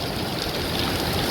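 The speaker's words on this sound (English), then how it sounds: "I got a river running through my front yard pretty much." Heavy rain and floodwater rushing through a front yard like a river, a dense continuous roar of running and falling water, loud and steady with no voices.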